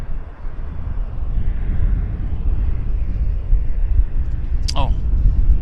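A United Airlines Boeing 737-800 jet on approach to land at Vancouver Airport makes a loud, continuous low rumble with wind buffeting, while a brief voice cuts in near the end.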